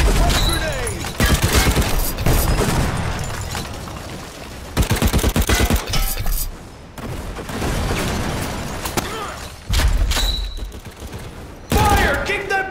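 Gunfire and grenade explosions in a World War Heroes war video game, with loud bursts of rapid shots and heavy booms arriving in separate volleys and short quieter gaps between them.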